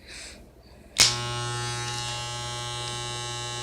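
A Conair home hair-cutting clipper switches on with a sharp click and then runs as a steady, close electric buzz that holds evenly to the end, with no talking over it.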